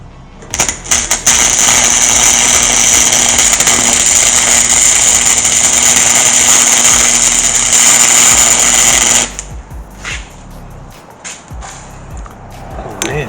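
Loud, steady buzzing and crackling from welding on the frame of a 1946 Chevy runs without a break for about eight seconds, then stops abruptly and gives way to quieter clanks and shop noise.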